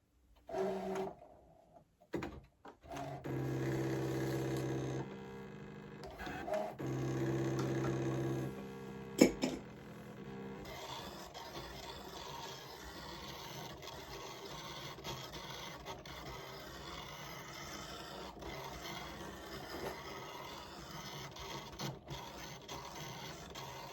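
A Brother ScanNCut DX cutting machine runs with its thin fabric auto blade, cutting fabric for a custom bag: a steady mechanical whir and rasping hum with start-stop bursts in the first ten seconds, then a quieter continuous running noise, with no talk.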